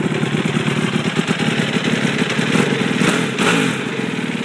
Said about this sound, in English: Watch how quick that is. Fuel injection. The race machine, this bike is so awesome.